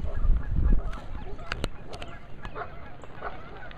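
Geese at a rural property with goslings nearby give several sharp honks and squawks at mid distance, scattered over outdoor background noise and a brief low rumble at the start.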